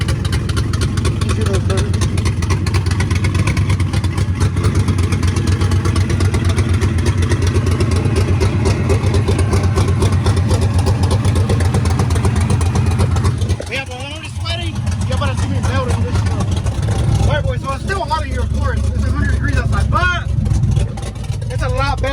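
A modified Chevrolet S10 pickup with a 5.3 V8 runs steadily at idle with a loud, continuous low rumble, shifting to a rougher, choppier note in the last several seconds.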